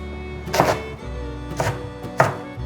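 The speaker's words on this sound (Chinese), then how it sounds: "现在把金针菇切碎" A kitchen knife chops enoki mushrooms on a cutting board in three distinct thunks spaced about a second apart, close and moderately loud over a faint background hum.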